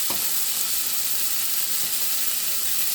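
Chili powder and chopped coriander fry in a pan with a steady, close, hissing sizzle and a faint scrape or two, and no talk.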